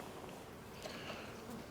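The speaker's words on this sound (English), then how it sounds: "These bees aren't too angry." Honeybees hum faintly around an open beehive during a honey harvest inspection, a soft continuous insect drone with a few brief louder passes of individual bees close by.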